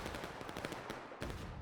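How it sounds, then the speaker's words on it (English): Repeated sharp shots and booms from a Civil War video game battle, a rapid irregular volley with a heavier blast near the end, fairly close and loud. "Whoever's shooting this artillery shot"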